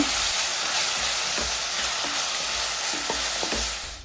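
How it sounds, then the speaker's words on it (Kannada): Ginger garlic paste and onion fry in a pan for a chicken roast, giving a steady, loud sizzle with a few soft clicks of stirring near the end and no voices. "ಒಂದು ಸ್ಪೂನು ಶುಂಠಿ ಬೆಳ್ಳುಳ್ಳಿ ಪೇಸ್ಟನ್ನು ಹಾಕ್ತಾ ಇದ್ದೇನೆ. ಇದನ್ನು ಸಹ ಸ್ವಲ್ಪ ಫ್ರೈ ಮಾಡಿಕೊಳ್ಳುವ."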